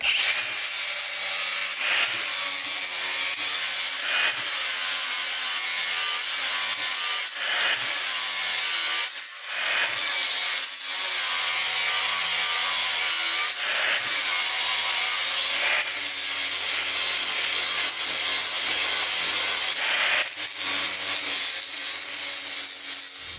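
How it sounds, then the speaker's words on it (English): A 4-inch angle grinder with an abrasive wheel sharpens a metal blade from a snapper lawn mower, heard as a continuous loud, gritty whine with a few brief breaks, close up and without speech. "So there it is, 4-inch grinder, sharpens it just fine."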